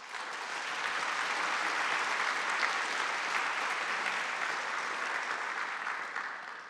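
Sustained applause from a large audience at a political party conference hall, steady and dense from start to finish, then easing slightly at the end with no speech over it.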